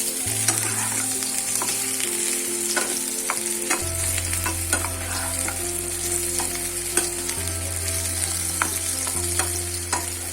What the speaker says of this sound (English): Let them sit there for a while and let them get nicely fried.